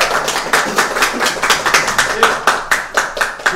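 A small studio audience claps in a quick run of sharp, evenly spaced hand claps, fairly close and loud, welcoming a guest on a Korean police television show.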